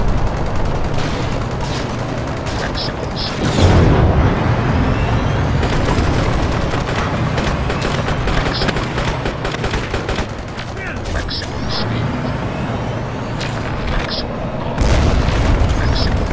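Gunfire rattles almost nonstop in a Crysis multiplayer desert battle, with rapid bursts, scattered single shots and booming impacts, while shouting voices cut in over the din.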